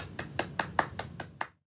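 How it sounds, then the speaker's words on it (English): Eight even, evenly spaced claps from a single person at a children's storytime session, sharp and close, ending abruptly in silence. "Give yourself a round of applause."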